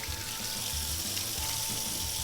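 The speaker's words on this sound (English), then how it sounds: "You come over to the sink, and I put water on top" Tap water runs steadily into an open can of tuna at a kitchen sink, a continuous close splashing rush with no voices.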